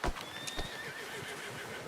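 A horse in the video game Red Dead Redemption gives a sharp whinny and snort near the start, then faint shuffling and breathing follow against quiet outdoor ambience.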